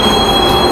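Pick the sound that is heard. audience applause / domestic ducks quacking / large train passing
large train passing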